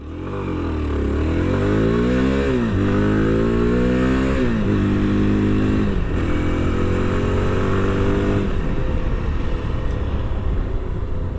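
Yezdi Adventure motorcycle engine revs up through rising pitch sweeps, then settles into a loud, rough idle rumble close by.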